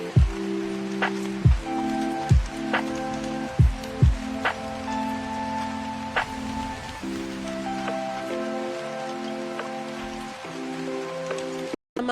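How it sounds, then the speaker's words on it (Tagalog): Rain falls outside as a steady, even patter through the whole stretch, with tonal, musical sounds laid over it. "yung ulan na nararanasan namin ngayon dito"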